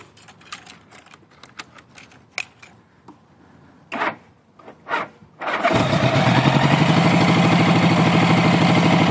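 A series of clicks and clacks, then a 1981 Honda Goldwing GL1100 motorcycle engine cranks and catches, settling into a loud, steady, slightly high idle that runs to the end.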